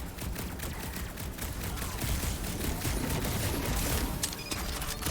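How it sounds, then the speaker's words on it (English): Dense, rapid video game gunfire in Marvel's Guardians of the Galaxy crackles continuously, with overlapping bursts of shots throughout, fairly loud with a busy, chaotic mix. "Sounds like a lot of florking gunfire."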